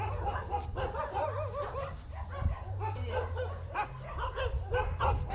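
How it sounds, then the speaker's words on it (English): A basset hound barks and yips repeatedly, fairly faint and at a moderate distance, mixed with whimpering sounds and a low background hum. "Big Ben is a basset hound"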